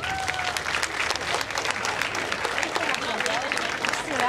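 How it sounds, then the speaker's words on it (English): Steady, dense applause from a large audience at a hypnotist stage show, loud and continuous throughout with a few scattered whoops. "Put your hands together for your volunteers,"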